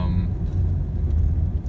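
Steady low engine and road rumble from inside a car while driving home, droning evenly at moderate volume with no speech.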